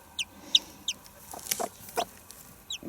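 Newly hatched chick peeping, born that morning, with a series of high, short cheeps repeating irregularly and close by, plus a few soft rustles.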